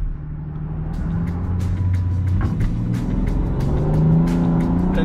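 A Land Rover Defender 130 SUV towing a 7,300-pound trailer pulls away hard after brake torquing, its engine note rising steadily and loud with no one talking.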